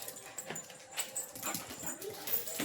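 A pet dog indoors whimpers and yips in short, uneven bursts across the moment, moderately close and fairly quiet, wanting to be taken outside.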